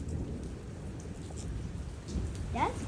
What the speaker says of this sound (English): Well, the thunder's going.